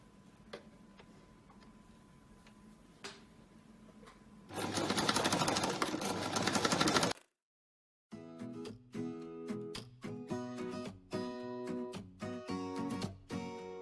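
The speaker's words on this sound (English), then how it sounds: "we're going to move on to sewing the arc of our thumb piece" Sewing machine stitching the thumb piece of a pressure garment glove: quiet ticking at first, then a loud steady whir, a pause, and then short rhythmic bursts of stitching.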